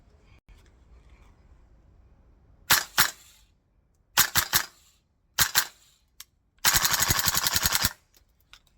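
A VFC Knights Armament L403A1 gas blowback airsoft rifle fires nearby: a few sharp single shots, several quick two-to-three-round bursts, then a longer rapid full-auto string, each crack loud and snappy against a quiet background.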